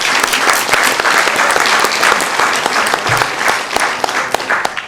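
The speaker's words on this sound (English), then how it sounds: "let's give them a round of applause" A round of applause fills a city council chamber in Sacramento, with a crowd clapping steadily and densely for the full stretch, staying strong throughout.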